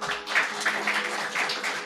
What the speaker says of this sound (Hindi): यह चीज़ अच्छी लगती है जब आप ताली बजाते हो मेरे लिए